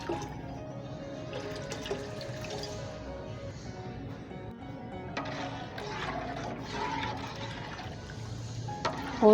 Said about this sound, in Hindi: अब कड़ी में हम तकरीबन इतना पानी डालेंगे कि दही से 3 गुना ज़्यादा।